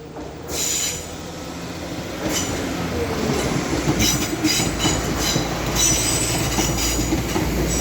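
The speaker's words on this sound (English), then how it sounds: "And now departing is 195014." Class 195 unit 195014 pulls away from a platform at Leeds station, a steady rumble of engine and wheels building with squeals and rail clatter, close and loud throughout.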